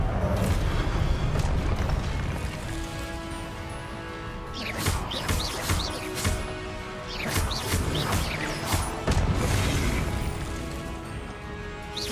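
In the Hogwarts Legacy video game, Confringo blasting curses explode as several booming crashes over a dense, continuous rumble of combat noise. The loudest blasts cluster near the middle and the end.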